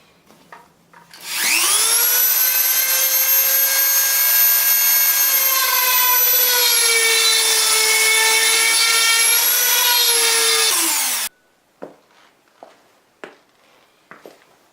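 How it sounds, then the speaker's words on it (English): A power drill fitted with a tile bit bores a hole through drywall while installing door stop backing, a loud steady whine with a falling pitch lasting about ten seconds, then stopping abruptly, followed by a few scattered clicks and knocks. "So put a tile bit on there, cut that out"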